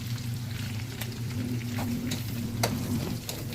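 Bitter gourd (ampalaya) stirred as it fries in a pan, with a steady close sizzle and low hum throughout and a few light scraping clicks of the spoon against the pan.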